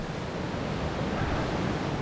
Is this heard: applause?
no